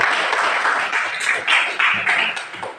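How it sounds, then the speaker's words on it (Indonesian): A classroom of students applauds a presenting group during a university teaching practice lesson, a brief, fairly close burst of many hands clapping that rises and falls in short waves. "aplaus untuk kelompok 2"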